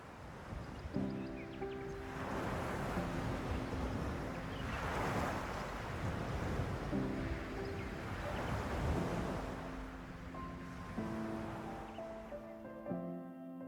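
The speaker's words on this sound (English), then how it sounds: "hear the waves echo like a Christmas symphony of the ocean" Ocean waves surge and wash steadily beneath the rock arch at Cabo under a soft, continuous roar, with light wind and sustained musical tones layered over the top.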